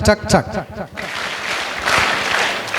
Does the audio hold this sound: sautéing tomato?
no